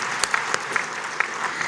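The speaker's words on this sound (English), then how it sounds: "Clap for us." A short burst of applause from the audience at an accountants' congress: even, moderate clapping with a few sharper individual claps standing out near the microphone.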